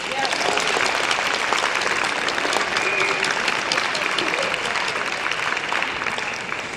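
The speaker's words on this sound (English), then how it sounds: "I'd like another round of applause" An audience at a university symposium gives a round of applause for visiting high school students and teachers: steady, dense clapping from many hands, moderately loud and sustained across the whole stretch, tapering slightly at the end.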